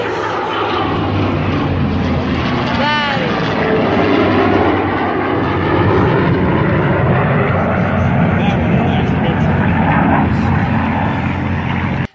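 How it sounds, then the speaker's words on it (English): A P-51 propeller fighter and an F-22 jet fly close together in formation, producing a loud, continuous roar of aircraft engines with a sweeping tonal pass midway, steady throughout. "A stunning view of these P-51 and F-22 flying really close to each other in formation."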